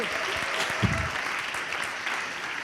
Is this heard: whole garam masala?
no